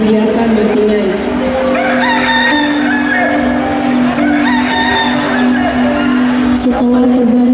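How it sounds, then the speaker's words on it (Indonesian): A rooster crows in the morning, several drawn-out calls over a steady background of clucking fowl and farmyard noise, close and loud throughout. "Pagi pun tiba, disambut suara ayam jago berkokok"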